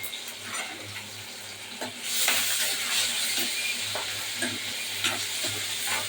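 Onion and tomato being stirred in a hot pan with curry leaves make a continuous sizzle with scraping strokes throughout, brightening after the first couple of seconds, with no talk.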